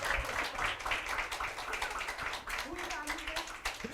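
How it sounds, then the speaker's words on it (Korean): Audience clapping fills a church youth gathering during a rock-paper-scissors game, a dense, steady patter of many hands that runs the whole time with voices mixed in. "네, 박수."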